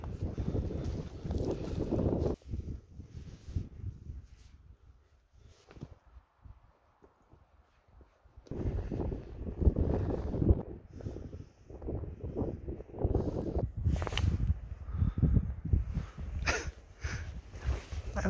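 Gusty wind buffets the microphone on a cold, north-facing open hillside, loud at first, easing to a lull, then blowing strongly again.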